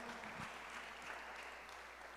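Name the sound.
church congregation applauding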